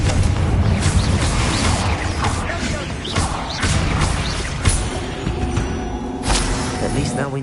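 Fire-blast spell impacts from Hogwarts Legacy crash and thud through a dense, loud wash of game noise, with repeated heavy hits and a voice calling out over the clamor.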